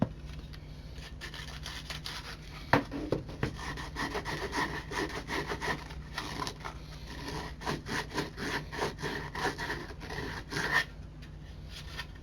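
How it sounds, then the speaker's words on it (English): Hand sanding of wood for a DIY wine and glasses shelf rack: repeated rough back-and-forth rasping strokes, close and fairly loud, continuing steadily throughout with no talking. "Just a little bit of sanding and it will be alright."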